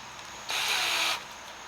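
A power drill whirs in one short high-pitched burst of under a second, standing out against a quiet background hiss.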